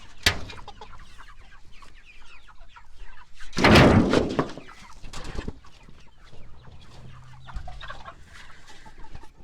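Pastured poultry chickens clucking and calling near and around, with a loud burst of flapping and squawking partway through and scattered rustles between the clucks.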